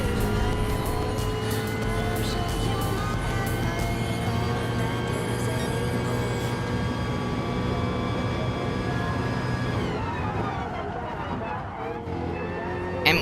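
Race car engine on a lap of Bathurst in Gran Turismo, driven without traction control or ABS: a loud, steady, sustained engine drone that holds one pitch, then shifts and eases near the end.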